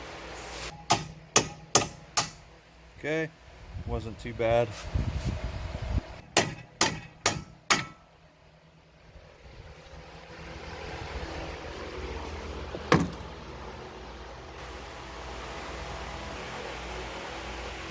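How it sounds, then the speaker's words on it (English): Sharp metallic hammer taps on the end of a steel bolt from a Chrysler Town and Country front shock strut ring out in quick clusters, about five strikes, a pause, then four more; a person briefly speaks, followed by faint background hum. "I'm going to just tap right here on the end of the bolt."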